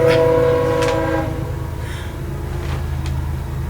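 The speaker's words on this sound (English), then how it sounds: "Oh, Train. We got a train." A freight train with two engines passes the tracks by a brewery, its horn blaring loud and sustained at first, then the rolling rumble of rail cars continuing close by.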